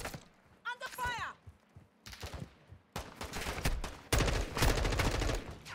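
Gunfire in the video game Warzone 2 DMZ arrives in scattered bursts and volleys that grow denser and louder toward the end, with a voice speaking briefly in between.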